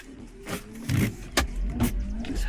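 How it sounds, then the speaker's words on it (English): Mazda Protege windshield wiper motor fitted to a 1993 Mazda RX7, running at medium speed: a near motor whir with repeated wiper sweeps, rising and falling about every half second, with no talk. "this is the medium speed with the Mazda Protege motor, and we'll turn it on"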